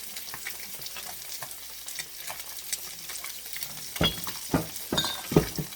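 Peanut-coated tilapia fish frying in a hot pan, a steady soft sizzle with a few sharper clinks and scrapes toward the end.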